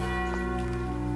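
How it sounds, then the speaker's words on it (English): A church passing bell tolls in a quiet English village, one sustained ringing tone with long humming overtones that hangs steadily through the moment, fairly loud and alone. "It's the passing bell."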